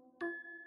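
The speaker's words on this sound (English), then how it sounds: "Pull the bell." A doorbell rings once: a bright struck chime with sustained ringing tones that fade gradually, faint and heard alone.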